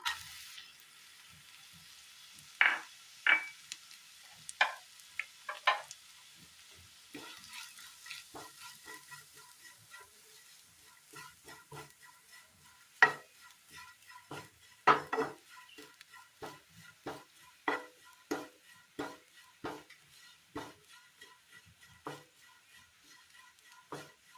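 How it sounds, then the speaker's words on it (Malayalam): Grated coconut frying in a little oil in a heated pan, heard as a faint sizzle under scattered clinks and scrapes of a spoon stirring against the pan. "തിരുമ്മി വെച്ചിരിക്കുന്ന തേങ്ങ ഇട്ട് കൊടുക്കാം."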